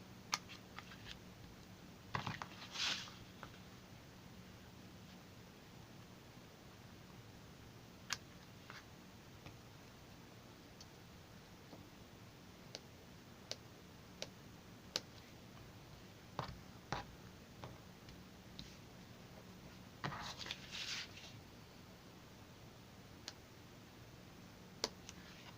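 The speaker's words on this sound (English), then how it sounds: "let me get my snippers and just cut these little white pieces off here" Snippers trimming small white paper pieces for a state fair scrapbook layout, faint sparse snips and clicks scattered at irregular intervals in a quiet room.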